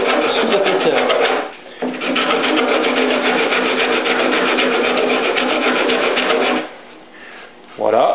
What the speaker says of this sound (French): je ponce sur cette partie-là, donc la partie verticale, à l'aplomb de cette surépaisseur